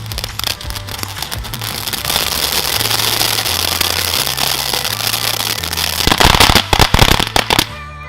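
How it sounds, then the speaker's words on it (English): Fireworks going off in a long crackling barrage of dense popping and sputtering, rising toward a cluster of sharper bangs near the end, with no talk. "Cooking ham with a firework."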